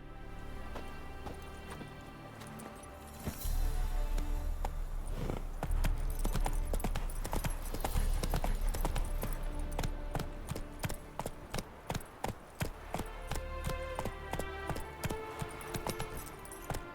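Horse Roach trotting in The Witcher 3, with steady rhythmic hoof clip-clops running for most of the stretch, loud and close over a dense musical score, with a jangle of tack alongside.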